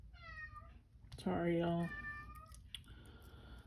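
A cat meows several times indoors, one loud drawn-out yowl standing out among shorter calls, while someone talks softly in between.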